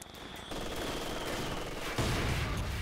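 Machine gun fire in a 3v3 match of the video game Company of Heroes 2, a dense continuous rattle of bursts that grows louder near the end, with no talking.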